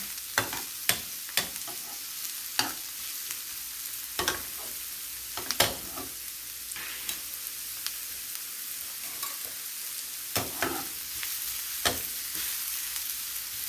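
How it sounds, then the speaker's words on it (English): Mushrooms fry in a pan for scrambled eggs with a soft, continuous sizzle close by. Sharp scraping clicks from stirring break in at uneven intervals, and no one speaks. "we have to wait until the mushrooms start fully getting cooked"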